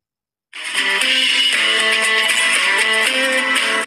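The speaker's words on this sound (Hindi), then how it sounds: "मैं आपको एक रिंगटोन सुना के दिखा देता हूँ" A bright electronic ringtone melody starts abruptly after a brief silence and plays loudly and continuously, with clear stepping tones.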